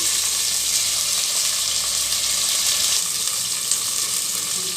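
Onion, curry leaves, garlic and green chilies fry in hot oil with mustard seeds for a tomato dal, making a loud, even, continuous hiss close up with no talk.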